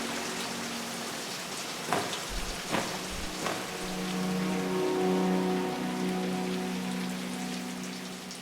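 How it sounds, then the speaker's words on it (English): Rain dripping off solar panels in a green energy park, a steady wash of rainfall with scattered heavier drops tapping the surface and a faint low rumble, no voices. "Raindrops drip from solar panels."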